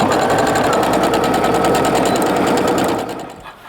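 A sewing machine stitching a zip top bag, running loud and close in a fast continuous rattle, then slowing and stopping near the end.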